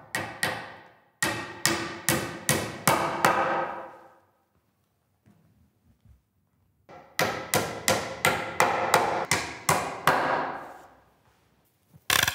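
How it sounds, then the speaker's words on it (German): Two bursts of steady hammer blows nailing a support board, about five or six sharp strikes each, separated by a quiet pause with a few faint knocks, while building a hunting stand. "heft man uns ganz am Ende um ein sogenanntes Stützbrett hier mit Hammer und Nagel"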